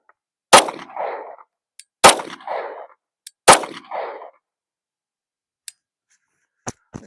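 A gun fires at a shooting range: three loud, sharp shots about a second and a half apart, each with a short ringing tail, followed by a few faint clicks.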